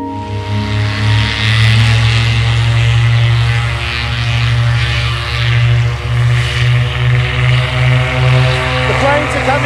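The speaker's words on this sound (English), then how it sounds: "The planes are coming into Lukla now, thick and fast." Propeller planes flying into Lukla airport near Everest, a loud, sustained engine drone with a steady propeller hum that swells and settles, close by.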